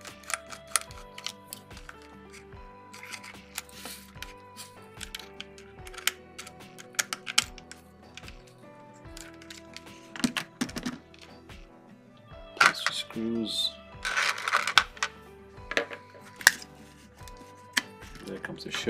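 Small crisp clicks and taps from a screw being worked loose on the underside of a Rivarossi HO scale 2-8-4 Berkshire model steam locomotive, close up over steady background music.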